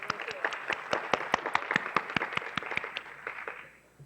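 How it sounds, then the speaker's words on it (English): A small conference audience gives a round of applause, a light patter of distinct, separate claps from a modest group in a room, fading toward the end. "a round of applause to them"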